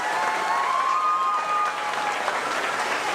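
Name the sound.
round of applause for Lieutenant Commander Martinez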